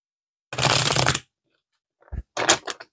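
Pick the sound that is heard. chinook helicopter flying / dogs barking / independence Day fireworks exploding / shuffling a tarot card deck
shuffling a tarot card deck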